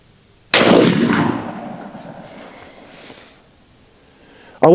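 Single loud shot from an Element Max .50 caliber single-shot PCP airgun, a sharp crack with a long decaying tail, followed by quiet and a brief noise at the end.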